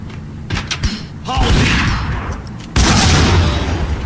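Grenade explosions and gunfire in the video game Max Payne, a few thumping booms and blasts with rumbling tails, loud and close, with a voice talking partly underneath.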